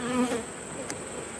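Honey bees in a hive box buzz close by with a steady, dense drone, one louder bee passing near at the start, and no one speaks over it.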